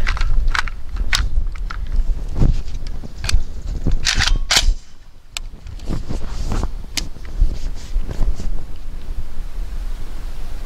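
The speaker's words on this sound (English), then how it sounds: "Let's put some rounds through it." ATI Galeo Galil clone rifle firing outdoors, a dozen or so loud sharp shots in irregular single and paired bursts with a brief lull midway, over wind noise.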